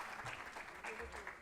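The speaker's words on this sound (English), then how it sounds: "Let's give a big round of applause to Kapil Sharma, please." An audience claps for a performer at a corporate automation conference, a brief, faint burst of applause with a voice speaking over it.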